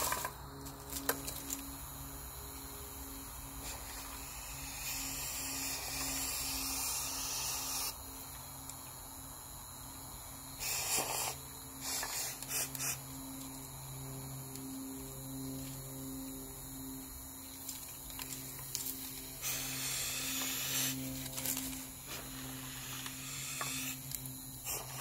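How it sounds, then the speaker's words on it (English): A Harbor Freight powder coating gun sprays a Jackson Racing M45 Eaton supercharger rotor housing for a Honda D-series engine, a soft steady hiss in bursts with a faint electrical whine and hum beneath. "we're going to hit it with the Harbor Freight"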